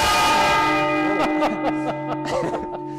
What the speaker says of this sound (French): la cloche du Mont-Saint-Michel